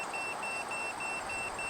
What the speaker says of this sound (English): The beeping when it's solid is where the laser is hitting right in the middle of the detector.